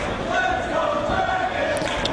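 Wrestling arena crowd cheering during a match, a steady roar of many voices filling the space at high volume throughout, with a commentator's voice over it.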